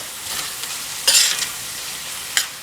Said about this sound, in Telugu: చిటికెడు గరం మసాలా వేసుకొని చక్కగా కలుపుకోవాలి.